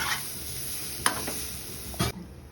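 Carrot halwa being stirred in a pan: a steady low sizzle with a couple of sharp spoon scrapes against the metal, close and moderately loud, with no talking.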